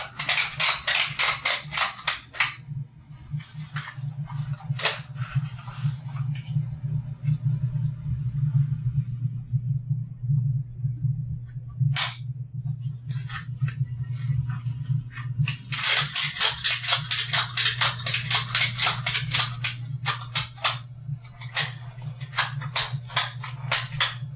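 A ratchet strap on a Vertetrac chiropractic traction device clicks down in rapid bursts of sharp, close metallic ticks, pausing in the middle before another long run of quick clicks, over a low steady hum.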